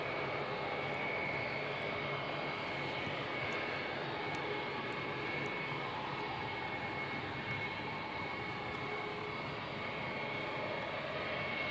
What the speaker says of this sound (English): Another Jetstar 287 coming in from Wellington.